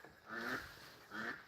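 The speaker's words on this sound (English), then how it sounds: "I hear some ducks coming." A couple of hoarse duck quacks sound at middle distance outdoors, two separate calls with a short gap between them and no voices.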